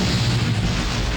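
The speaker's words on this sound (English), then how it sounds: "That's a lot of explosions." A dense, continuous roar of video game explosions rumbles loudly, booms blending into one heavy wall of sound with no pauses.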